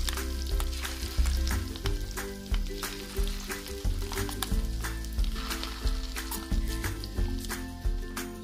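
Fish roe pakoras frying in hot oil, a continuous bubbling sizzle with repeated stirring knocks and scrapes, close and moderately quiet, no talking.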